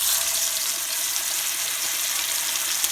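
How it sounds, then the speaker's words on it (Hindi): Raw minced meat kebabs fry in a pan with a steady, loud, hissing sizzle that carries on without a break and sounds close, with no talking. "और सारे कबाब इसी तरह से हम फ्राई करेंगे।"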